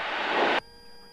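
A light airplane engine with carburetor heat applied roars loudly and steadily, then abruptly drops as power is cut back to 1500 rpm, leaving a quieter, lower engine drone.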